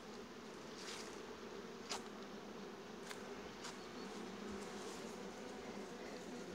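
A steady, dense drone of many honeybees humming together inside a hive in late autumn, continuous and close, with no voices over it.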